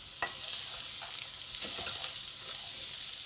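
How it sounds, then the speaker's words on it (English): Sweetcorn and pepper sauté in a hot pan, giving a soft, even sizzle close by with faint scrapes of stirring scattered through it. "I'm going to let this saute down."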